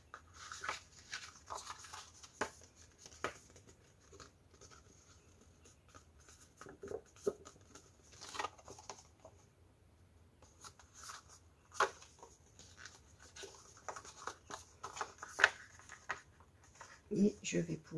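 Paper being creased into valley and mountain folds for a pop-up page of a handmade mini album: soft, quiet rustles and scratchy creasing strokes recur throughout, with a voice at times.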